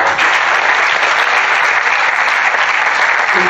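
A seated crowd at a resilience gathering breaks into applause: a thick, even wash of many hands clapping, loud and sustained throughout the short moment.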